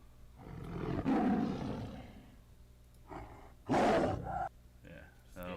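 A person's voice imitates a tiger roar: two loud, growling bursts a few seconds apart, close to the microphone, with quieter voiced sounds in between.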